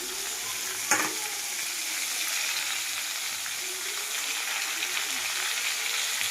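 Small shrimp sizzle steadily in a wok of curry with soaked chickpeas, giving a dense, even hiss; a single utensil knock near the start marks the stirring.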